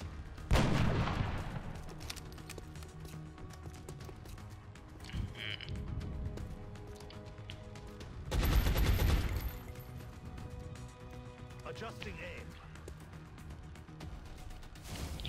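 Gunfire in the video game X-COM: Enemy Within: bursts of shots and heavier blasts go off at intervals over a busy game soundscape, with a loud cluster of firing midway.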